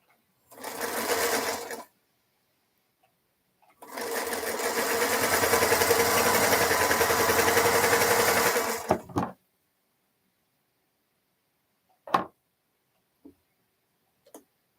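A sewing machine stitches quilt blocks in two runs, a brief burst and then a longer steady whir, followed by a few isolated clicks and taps as the fabric is adjusted, close and loud with no speech.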